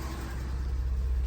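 A 1983 Datsun 280ZX Turbo engine runs with a misfire, a low rumbling idle with an uneven, pulsing beat, heard briefly and close.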